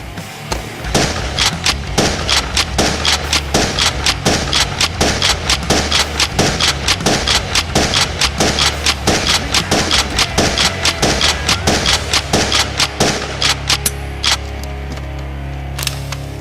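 A Nerf Strike Elite Retaliator blaster fires a rapid run of foam darts from an 18-round magazine. The sharp, evenly spaced clacking shots are close and loud, and the firing stops near the end.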